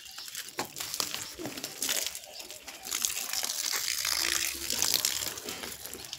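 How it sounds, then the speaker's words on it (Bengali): Water poured onto eggplant and other garden plants at home, a continuous splashing and gushing with leafy rustling and crinkling, close and steady, running the whole time. "যে গাছগুলোই সব জল দেওয়া হচ্ছে"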